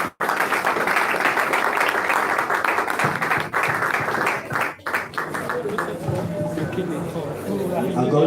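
Loud, sustained audience applause and clapping welcome an engineer to the stage at an engineering conference, with crowd chatter mixed in and a brief dip before the clapping carries on.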